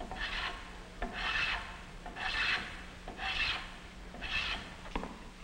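Hand plane shaving wood in a craft shop, five rasping strokes in a steady rhythm about a second apart, each a soft scraping swish with a light knock at the start.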